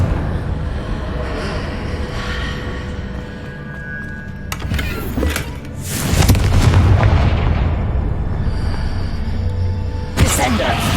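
A Confringo spell blast in the Hogwarts Legacy video game lands as a loud booming burst with a rumbling tail, among other spell effects and game sounds, with a voice talking over it.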